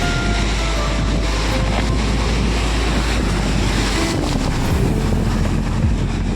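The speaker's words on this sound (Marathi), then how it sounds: "समुद्र एकदम खवळलेला आहे." Rough Arabian Sea surf pounds a Konkan shore, a loud, continuous roar of crashing waves with heavy wind rumbling across the microphone throughout.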